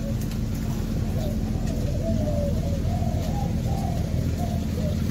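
A flock of pigeons coos repeatedly at close range, the soft rolling calls overlapping in an irregular rhythm over low, steady background noise.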